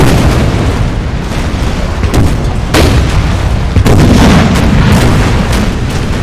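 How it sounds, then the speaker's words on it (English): Ship cannons firing during a Napoleonic naval battle at Trafalgar in Napoleon Total War, loud deep booms in rapid overlapping succession amid continuous rumbling battle noise. "Starboard cannons, fire!"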